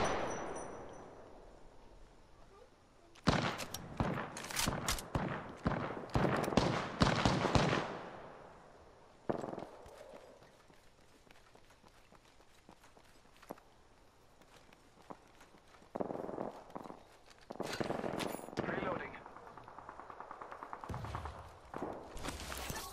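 Bursts of gunfire in the battle royale game Apex Legends, a cluster of loud sharp shots early, a single shot mid-way, then more scattered firing, separated by quieter stretches of movement and footsteps.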